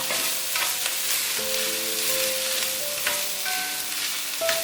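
Taro roll filling stir-fried in a pan, a continuous close sizzle with scraping utensil strokes and some faint tonal ringing from the pan, no talk.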